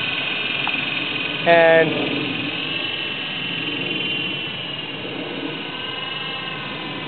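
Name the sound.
Air Hogs Gryphon toy RC helicopter flying at half throttle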